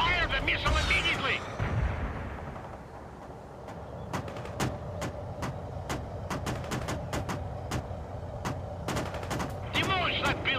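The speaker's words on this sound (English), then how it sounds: "Launch the 85 missile. Fire the missile immediately!" Missile and artillery fire in World in Conflict: a whooshing launch rolls into a long string of sharp, evenly spaced gun bursts and distant booms, with battlefield radio voices over the top at start and finish.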